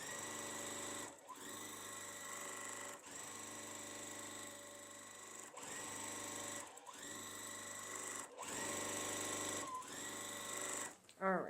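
A sewing machine runs in several sustained stitching bursts with brief pauses between them, sewing straight down the middle of a small quilt square. The motor drones steadily and fairly close, and a voice talks over it.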